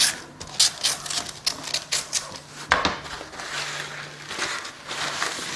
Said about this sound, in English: I'm just going to use a knife, if you can see that, just to run that along there to cut this.